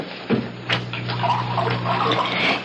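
Water pours steadily into a drinking glass indoors, a continuous splashing fill running close by for a few seconds with no talk over it, against a faint low hum.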